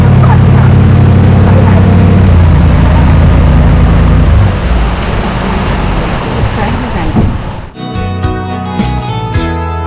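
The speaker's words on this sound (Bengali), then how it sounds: "আমাদের নামিয়ে দিয়ে ওই যে বোটটা ফিরে চলে যাচ্ছে" A passenger motorboat pulls away from an island in the middle of a large lake after dropping people off. Its engine rumbles loud and low at first, then thins and fades as it moves off.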